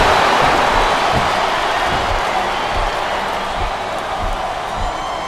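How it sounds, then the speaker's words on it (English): A large arena crowd roars and cheers continuously in WWE SmackDown vs. Raw 2007 on Xbox 360, a dense wash of noise with occasional thumps underneath. "This capacity crowd is making their opinions known tonight"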